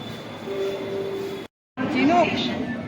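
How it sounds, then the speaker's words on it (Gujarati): A train rumbles and hums in a station, cutting out briefly, then returns with rising whine and squealing tones as it pulls in. "મેટ્રો આવી ગઈ છે."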